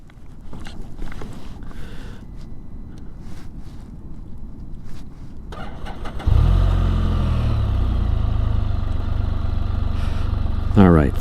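Can-Am Spyder three-wheel motorcycle engine cranks and catches partway through, then settles into a loud, steady close-up idle with a brief rev near the end; quieter handling noises come before the start.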